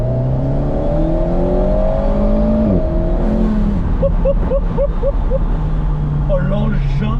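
An Alpine A110 GT engine is pushed to full throttle, its note climbing steadily as the car accelerates hard, with excited voices talking over it from inside the cabin.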